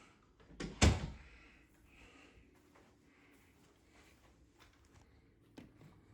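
A bedroom door in a house opens with one sharp thump near the start, followed by quiet shuffling and a faint knock toward the end.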